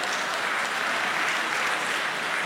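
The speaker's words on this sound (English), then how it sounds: "No, please, we're not going to applaud." An audience at a church meeting applauds, a dense, steady patter of many hands clapping together throughout, with no voices standing out.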